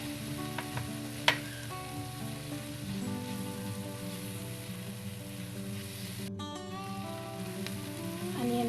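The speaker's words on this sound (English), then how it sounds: "The garlic is almost brown, and now we are going to saute the onions." Onions and browned garlic saute in a pan for enchiladas, giving a steady, close crackling sizzle with occasional stirring clatter throughout.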